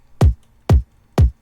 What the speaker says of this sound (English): the original kick sounds like this